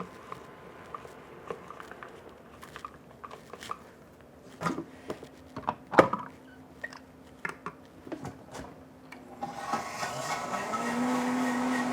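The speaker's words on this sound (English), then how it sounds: "And then we blend." Bechamel with salt and cracked pepper gets blended: scattered clicks and knocks from handling, then a kitchen blender whirs up near the end into a steady, moderately loud motor drone.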